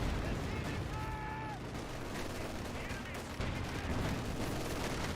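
Steady rattling gunfire and muffled blasts from a Company of Heroes 2 battle, including a Gammon bomb explosion, rumble at moderate volume throughout, with a brief whistling tone partway through.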